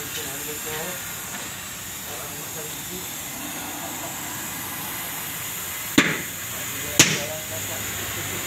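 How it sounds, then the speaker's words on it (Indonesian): A tire on a 1020 truck wheel being removed by hand with a hammer and wedge, heard as two sharp metallic strikes a second apart near the end, over steady hiss and background noise. "di tempat ini masih manual ya saudara, menggunakan palu dan baji."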